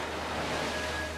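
Ocean surf washes onto a beach in a steady, dense roar, loud and continuous with some wind noise and no clear breaks.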